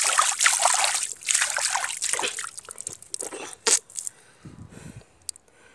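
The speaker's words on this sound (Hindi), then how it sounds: "देखिए बहुत ज़्यादा पानी है" Water trickles and splashes steadily for a few seconds, then thins to scattered drips and small splashes with faint background noise.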